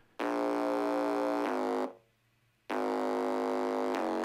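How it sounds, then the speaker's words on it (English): A high-passed, distorted synth top bass plays on its own in two sustained, buzzy bursts of about 1.5 seconds each, separated by a short gap, with no talking. "This top bass comes in that's just a high-pass distorted version of the lower synth bass that's been in."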